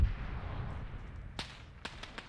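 Enemy bunker gunfire in the Arma 3 war game: several sharp, distant cracks arrive in the second half, spaced irregularly over a steady low rumble of battlefield ambience, with no talking.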